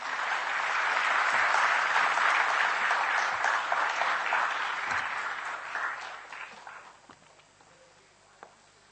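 Audience applause after a lecture on the Gandhian way rings out full and steady, then thins out and tapers off, with a few scattered claps near the end.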